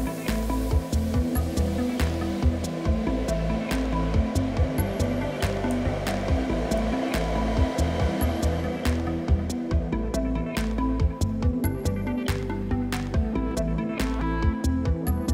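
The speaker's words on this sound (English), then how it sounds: "your fan should start to ramp up," A TerraBloom ECMF series EC inline fan, driven by Arduino PWM or 0-10V control, ramps up with a loud, continuous rushing whoosh and shifting whine. Scattered clicks and ticks sound throughout.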